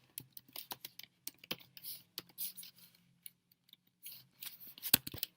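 Computer keyboard typing while Java code is written, with irregular bursts of crisp clicks and brief pauses between them, fairly close and without any voice.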